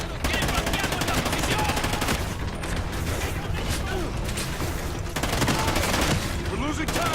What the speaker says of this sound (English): now it's gone from guerrilla warfare to shoot the hell out of everything